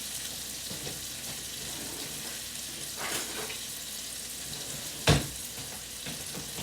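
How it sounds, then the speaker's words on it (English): Fresh garlic sizzling in a frying pan, a steady soft hiss and crackle throughout, broken by a brief sharp clatter near the end. "I'm just going to put a little fresh garlic in the pan."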